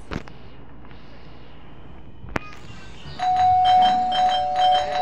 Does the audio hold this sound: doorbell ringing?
yes